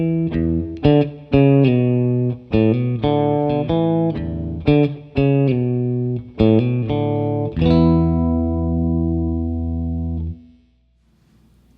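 PRS Super Eagle electric guitar played through the middle and bridge pickups with split coils, EQ and treble boost engaged: a choppy chordal riff of clipped stabs, then a final chord left ringing for about three seconds before cutting off, with no talking.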